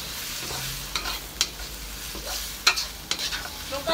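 A spatula stirs fried tofu with minced pork and black beans in a pan, making irregular scraping clacks over a soft, quiet sizzle.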